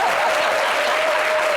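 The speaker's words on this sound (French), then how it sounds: "Vous voulez applaudir, allez-y, il n'y a pas de problème." Dense, continuous applause fills a short stretch of a live music show, loud and evenly sustained from start to finish with no voices on top.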